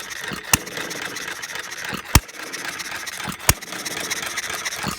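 A half-scale hit-and-miss model engine runs nearby with a steady mechanical clatter, broken by three sharp, loud firing pops spaced a second or two apart.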